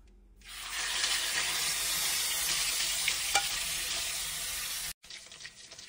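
A tilapia fillet fries in hot oil, giving a loud, steady crackling sizzle that starts abruptly and carries on, then cuts out briefly before resuming a little quieter.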